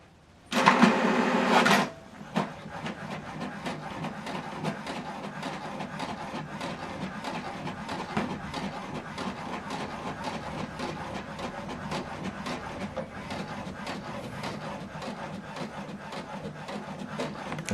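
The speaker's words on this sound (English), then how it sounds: "Now this document is printing." An HP Deskjet 2700 all-in-one inkjet printer prints a document: a brief loud mechanical whir at the start, then a steady run of soft rapid clicks and faint carriage rattling from close by, with no talk.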